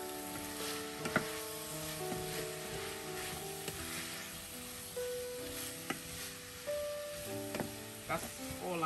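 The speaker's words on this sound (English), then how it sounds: "I'm just going to allow it to just slowly saute" Pepper sauce for fish gently sautés in a pan, a soft low sizzle running under faint background voices and occasional light knocks and utensil clinks.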